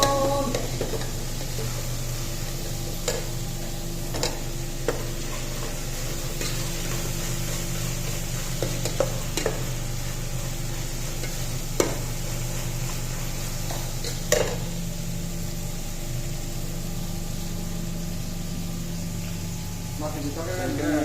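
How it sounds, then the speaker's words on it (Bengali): Fish frying in a pan in a small kitchen abroad gives off a constant oily sizzle, punctuated by occasional sharp clinks of utensil against pan. Faint background talk runs underneath. "মাছ ভাজা হইতেছে"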